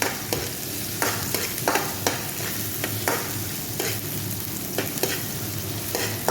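Ginger sautés in a pan for coconut-milk adobo, a close, soft sizzle broken by repeated spatula scrapes and stirring knocks roughly every half second, with no talking.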